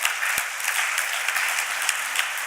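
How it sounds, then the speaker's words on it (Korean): Congregation applauding a pastor at a church all-night prayer service, a steady, dense wash of many hands clapping at close range with no break. "그 목사님 위해서 우리도 격려의 박수 부탁드리겠습니다."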